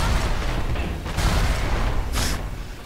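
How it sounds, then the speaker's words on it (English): Explosions in BioShock 2 roll out as loud, rumbling bursts, with a sharp blast near the end over a constant low roar. "Explosions."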